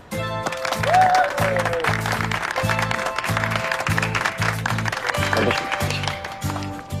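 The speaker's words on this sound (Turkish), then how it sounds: "42'de 42 yaptınız. Alkışlayalım." Applause for a winning quiz team after answering 42 of 42 questions, steady clapping over a looping background music beat.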